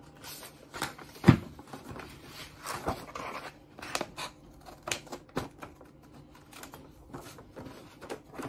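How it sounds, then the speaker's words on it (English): Scissors snip steadily through paper as a children's craft is cut out along drawn lines. The crisp, close cuts come in an irregular rhythm, with one louder snap early on and quiet pauses between cuts. "now we can get our scissors and we can cut them out."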